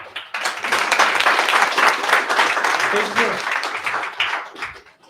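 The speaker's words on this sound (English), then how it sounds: "Applause, please" Audience applause for a startup presenter at a pitch event, a dense sustained burst of clapping from a crowd that swells quickly, holds steady for several seconds and tapers off at the end.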